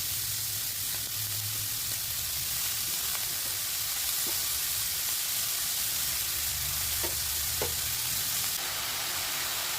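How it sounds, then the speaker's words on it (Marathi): Radish greens bhaji with chopped radish sizzles and fries steadily in a pan, a close, continuous hiss with occasional soft stirring clicks and no voices. "भाजी परतून घेऊया।"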